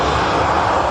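A jet airliner on approach to land at Manchester Airport gives a loud, steady engine roar, close and continuous, with no voices over it.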